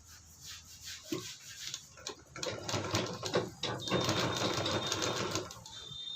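A sewing machine stitches fabric in bursts of rapid mechanical chatter, starting and stopping, close and fairly quiet, with a faint voice in the background.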